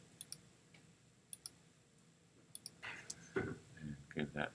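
Sharp mouse clicks come in quick pairs while selecting pieces in Illustrator, spaced a second or so apart and sitting close and crisp over faint room noise, with a voice speaking toward the end.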